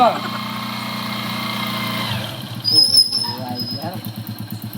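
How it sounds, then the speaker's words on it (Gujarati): A motorbike engine runs close by, humming with a steady idle before it shifts into uneven revving and putters. People talk loudly over the engine throughout. "તારા બાઈક આવ્યું છે"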